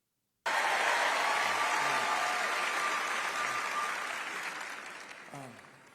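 A large crowd of thousands at a live metal show bursts into loud, sustained cheering and applause that swells suddenly, then slowly fades over several seconds.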